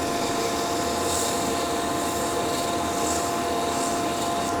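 Abrasive paper rubbing back and forth on a wooden magic wand with a spiral cut, a continuous close rasping hiss that swells and fades in steady strokes, with no talking.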